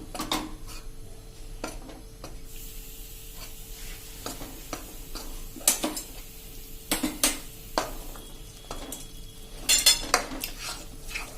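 Gram flour being stirred into ghee in a pan for jaggery Mohanthal over a medium gas flame: repeated sharp scrapes and clinks of a spoon against metal, irregular and close, over a faint sizzle.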